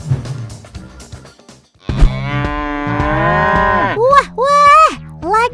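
Gama cattle moo in a farm setting: a long drawn-out low moo followed by several shorter rising calls, loud and close, with some livestock shuffling and background noise before the first call.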